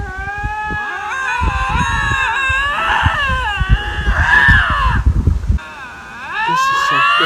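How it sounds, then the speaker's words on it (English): Two lynxes yelling at each other in the wild: loud, wavering, drawn-out yowls that rise and fall and overlap, with choppy crackling noise underneath, close and continuous for several seconds. "This guy had to pull over to watch these two lynxes yell at each other."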